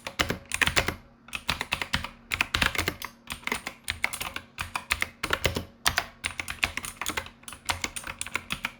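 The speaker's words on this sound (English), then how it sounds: "The Floki also takes advantage of mechanical switches, and here is a sneak peek of the audio that you can expect from it." Fingers type on the mechanical switches of a VX Gaming Floki RGB keyboard, close, crisp clacking in quick bursts with short pauses between runs of keystrokes, with no voices.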